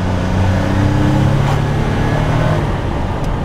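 A 1993 Jaguar XJ220 accelerates hard, its engine a loud, close, continuous drone with harmonics rising steadily across the few seconds, heard from inside with no voices.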